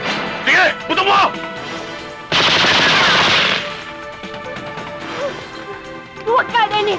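Gunfire in a 1997 action film: a loud sustained burst of rapid automatic shots with crashing impacts, set between shouted voices.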